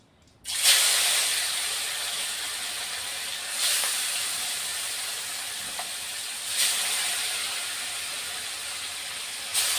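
Fish dropped into hot oil in a kadai, bursting into loud, continuous sizzling hiss that swells with each added piece, close and steady.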